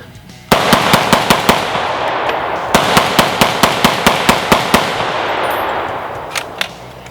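A Century C308 rifle fires magazine after magazine as fast as possible during a torture test, loud sharp shots in quick bursts with brief gaps between strings, a few last scattered shots trailing off at the end.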